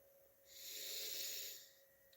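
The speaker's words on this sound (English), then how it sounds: "Breathing in." A single slow, deep breath drawn in through the nose during a calm breathing exercise, a soft airy hiss that swells and fades over about two seconds, close and alone.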